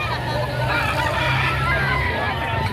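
Chickens at a busy livestock market in Padre Garcia, Batangas, with faint clucks and fowl calls mixed into a constant crowd hubbub and background chatter.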